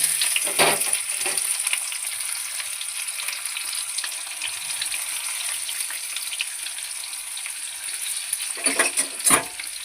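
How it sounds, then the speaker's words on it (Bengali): Chopped onions hiss and crackle in hot oil tempered with cumin in a heated kadai, a steady close sizzle with a few louder bursts of spitting near the start and end. "এবার দিয়ে দেবো পেঁয়াজ কুচোনোটা।"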